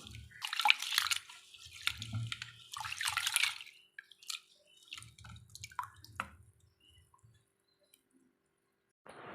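Soaked lentils and rice being washed by hand in water for vegetable adai batter: close, intermittent splashing and swishing in short bursts, with quiet gaps between them.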